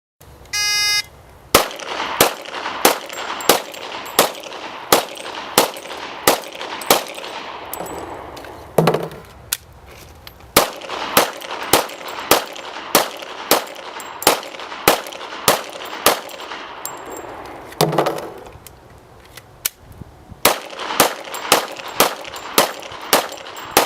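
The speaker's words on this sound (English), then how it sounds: "Christy will demonstrate again shooting 30 rounds, this time in 3 10-round magazines" Thirty rounds of gunfire in three 10-round magazines, sharp loud shots in a steady rapid rhythm, broken by two short pauses for magazine changes, with no talking.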